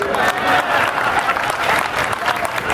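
Steady audience applause fills the hall at a Hindi comedy poetry recital, dense continuous clapping from a large crowd throughout, close and loud with no one speaking over it.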